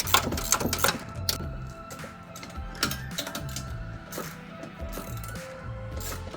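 A ratcheting wrench tightening the bolts of a Novawinch Stinger 12k winch on a Jeep LJ makes a rapid, uneven series of close mechanical clicks and ratchet chatter with short pauses between bursts.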